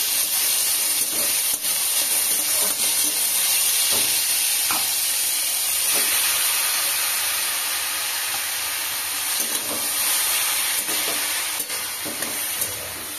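Ash gourd pieces hit hot mustard oil tempered with nigella seeds and a dried red chilli, giving a continuous close sizzle and hiss broken by the scrape and knock of stirring.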